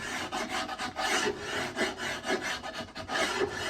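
Hand scraping along a carved wooden guitar neck to smooth it, a series of quick, rhythmic rasping strokes close by, quiet and dry, with no speech.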